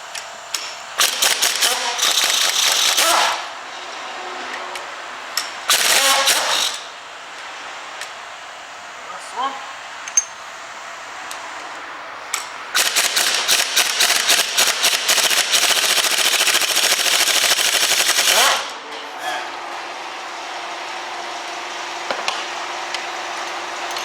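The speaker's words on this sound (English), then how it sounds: "We now need to remove the 3 bolts. Three T50s." A ratchet or power tool works T50 Torx bolts loose from the engine mount of a Peugeot 308 during a timing belt job, with loud, rapid clattering bursts separated by quieter pauses.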